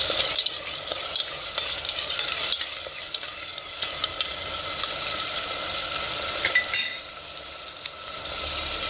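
Mutton sizzles in a pan for a mango curry while a spoon stirs it, making steady, fairly loud scraping and rattling over a bright frying hiss. The sound continues without pause, and nobody speaks.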